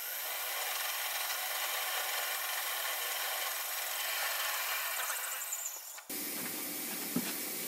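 A drill bores a 1/4 inch hole into a lathe tool holder, giving a steady, loud grinding whir that cuts off abruptly near the end, leaving quieter workshop noise.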